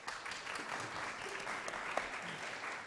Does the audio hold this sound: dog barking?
no